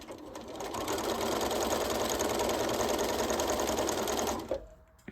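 A sewing machine stitches and backstitches the seams of a lined bodice with a loud, continuous motor whir and rapid needle rattle for about four seconds, then stops abruptly, followed by a faint click.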